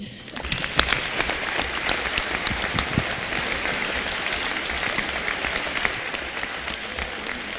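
An audience gives applause for senior volleyball players at a Hope College NCAA Division III match against Albion, steady dense clapping with a few sharper claps that carries through the whole stretch without voices.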